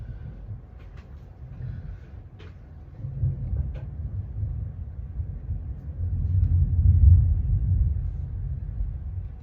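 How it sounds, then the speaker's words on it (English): Low, steady rumbling swells slowly and grows louder toward the end, a distant roll of thunder with a few faint clicks near the start. "Hear the thunder?"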